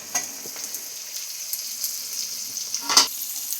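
Chopped garlic and capsicum frying in a pan, a soft continuous sizzle with scattered spatula taps and one sharper scrape near the end, close and moderately quiet, with no talking.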